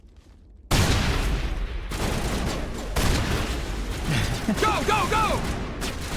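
Gunfire in the video game Mass Effect: a dense fusillade of rapid shots and mechanical clatter bursts in loudly after a quiet start, continuing steadily with sci-fi tonal effects, while a voice shouts urgently over the shooting.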